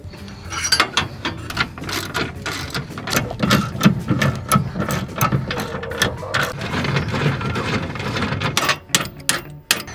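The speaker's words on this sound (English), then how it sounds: "So I'm doing this, ratcheting it down as the jack is off the ground" Rapid mechanical clicking of a ratchet wrench tightening a MORryde XBrace scissor jack stabilizer on a Passport Ultralite trailer, dense repeated close clicks running throughout with a steady rhythm, no talk.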